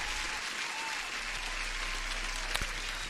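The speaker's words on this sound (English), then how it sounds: "Welcome to the stream and huge applause." A dense burst of applause sound effect plays continuously during a live futures trading stream, a steady clapping wash with a faint voice beneath it.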